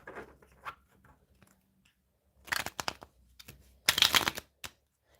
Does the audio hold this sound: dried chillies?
no